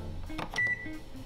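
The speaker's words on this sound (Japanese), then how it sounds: "そしてオーブンも予熱します。オーブンは150度に予熱してください。" Oven control panel beeping a few short tones as it is set to preheat to 150 degrees, close and clear with light kitchen background noise.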